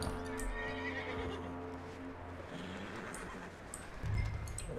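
Horse neighing in Red Dead Redemption 2, a loud whinny at the start with faint hoof clip-clops and game ambience behind it, and a low thump near the end.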